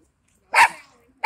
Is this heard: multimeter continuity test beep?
no